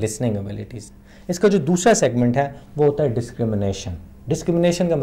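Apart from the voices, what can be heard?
None of the usual background noises is heard.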